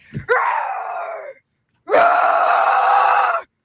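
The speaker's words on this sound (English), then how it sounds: "So at the top of her lungs, just hear her roar." A woman hiker facing a charging bear lets out two long, loud, strained roaring screams at the top of her lungs, each lasting over a second, separated by a short silence.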